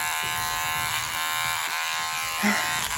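An electric toothbrush buzzes steadily for about three seconds as a child's teeth are brushed, a close, continuous whine with a brief louder bump near the end.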